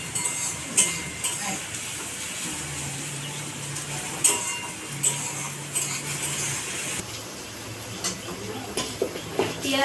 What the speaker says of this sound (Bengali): এবার আমি পেঁয়াজটাকে ভেজে নেব।